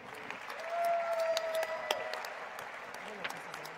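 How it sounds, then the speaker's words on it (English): Applause for a presenter walking on stage at a collegiate athlete Hall of Fame induction, fairly faint and scattered clapping from a modest crowd, with a sustained tone and murmuring voices underneath. "Round of applause for Susie Favor."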